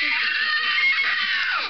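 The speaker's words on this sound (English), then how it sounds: "and she screamed." A young girl lets out a sustained, shrill scream while playing a ghost in a school Christmas Carol play, loud and unbroken before dropping away at the end.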